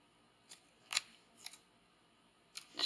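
Several quick, sharp snips of scissors cutting the corners of tape, spaced irregularly in a quiet room, each a brief crisp cut.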